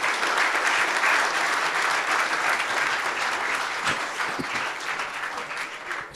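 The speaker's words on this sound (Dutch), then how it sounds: "Geef ze een hartelijk applaus." Warm, sustained applause from an audience at an energy debate, many hands clapping steadily and close, tapering slightly toward the end.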